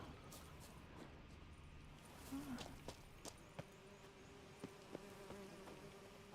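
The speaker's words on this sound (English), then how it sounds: "Bees." Bees buzz faintly around a ruined griffin's nest in The Witcher 3, a soft droning hum that settles in under quiet game ambience and scattered small clicks and taps.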